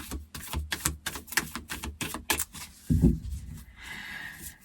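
Rapid crisp riffling taps of tarot cards being shuffled, a quick burst of flicks, then a soft thump and brief rustle at close range.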